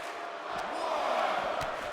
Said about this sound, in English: Crowd is loving it.